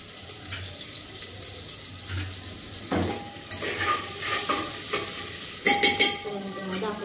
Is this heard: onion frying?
yes